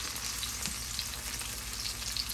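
Onions frying in a blend of sesame, olive, grapeseed and avocado oil, giving a steady close-up sizzle with crackling pops throughout and no talking.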